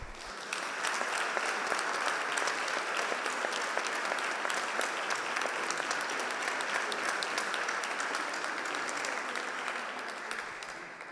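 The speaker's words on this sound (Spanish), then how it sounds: "para ellos pido un fuerte aplauso" Sustained applause from an audience at a literary prize ceremony, many hands clapping in a dense, even roar that swells in quickly and holds steady for about ten seconds before tapering slightly at the end.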